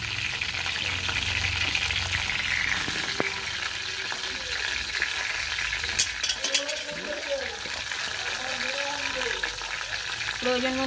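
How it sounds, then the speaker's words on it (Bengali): Cauliflower pieces fry in hot oil with a steady, dense sizzle that runs throughout, with occasional stirring clinks and a voice talking over it partway through. "ভাজার জন্য ফুলকপিগুলো দেয়া হলো গরম তেলে"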